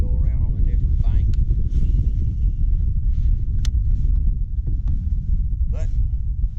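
Steady wind buffets the microphone aboard a fishing boat during a winter storm tournament, a constant low rumbling roar with a few faint higher tones and clicks over it.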